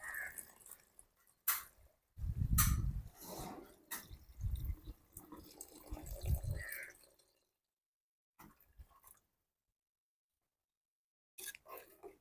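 Thick coconut milk pours and splashes into a pan in close, wet bursts, broken by short pauses and a few soft drips.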